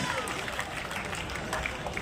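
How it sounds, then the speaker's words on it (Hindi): A village crowd in Haryana claps to welcome an arriving guest, a dense, continuous patter of applause at an even level throughout. "जोरदार तालियों से अभिनंदन और स्वागत दिल की गहराइयों से।"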